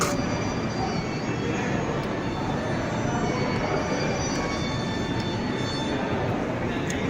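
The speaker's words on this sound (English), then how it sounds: "Dubai City, heading to the Metrolink." A Dubai Metro train carries passengers through Dubai, with a steady, loud broadband rumble and rushing noise that holds evenly throughout, and nobody speaks.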